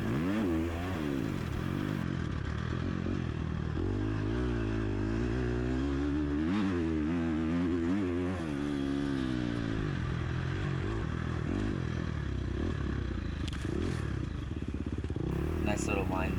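Motocross bike engine in the MXGP video game, revving and shifting pitch steadily as the rider works through the Area 51 track, loud and continuous throughout with a voice talking over it.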